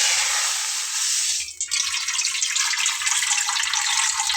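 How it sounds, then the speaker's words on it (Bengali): Water pours steadily into a metal pan (a karahi) on the stove, a bright continuous splashing rush that pauses briefly and then resumes, with no talking. "চুলাতে একটা কড়াই দিয়ে নিয়েছি আর তাতে আমি এখন পানি দিয়ে নেব"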